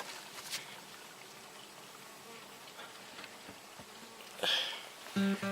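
Honeybees from a swarm being settled into a hive buzz softly and steadily at dusk, faint and close, with a louder buzz as a bee passes near and a few knocks at the end.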